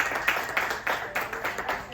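A short burst of applause from a small group, scattered claps building in quick waves, with a voice faintly underneath.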